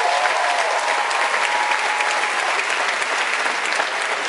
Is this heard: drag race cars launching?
no